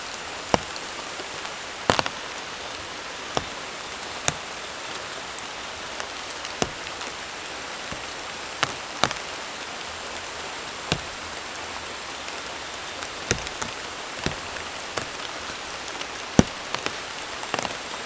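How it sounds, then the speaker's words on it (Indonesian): Heavy rain pours steadily at a campsite, a dense close hiss of drops on surfaces broken by sharp, irregular louder drips and taps, with no voices. "hujannya lebat"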